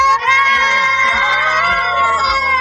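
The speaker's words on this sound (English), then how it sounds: "can we have a big cheers from this crowd for these girls?" A crowd at a girls' school science exhibition cheers and shouts loudly and continuously, with bright, high children's voices blending into one excited roar.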